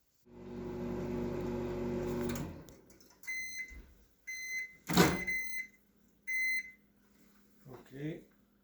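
A microwave heating cream fudge gives a steady hum that stops after a couple of seconds, followed by clicks, a sharp clatter and a string of short beeps, with people talking nearby.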